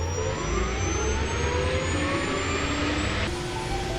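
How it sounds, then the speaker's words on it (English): A steady video game helicopter engine whine builds with a rising tone, droning continuously like a turbine spooling up, loud and close. "Start up any helicopter by holding R."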